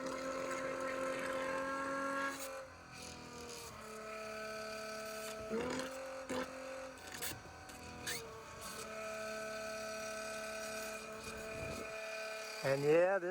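An HVAC condensate drain pump runs while pumping water, giving a steady humming motor drone with shifting pitch and occasional knocks and gurgles, and voices can be heard over it.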